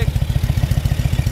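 A 2001 Harley-Davidson Electra Glide Ultra Classic idling, its engine a loud, close, deep rhythmic pulsing lope with rapid even beats.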